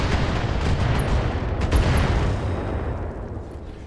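A missile launcher explosion in a video game, a loud broadband blast with rumbling low end that rolls on, then decays over a few seconds.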